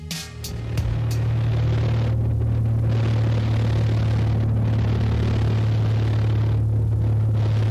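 A small airplane engine drones in a steady, loud low rumble after a few brief clicks and knocks at the start, with no talking over it.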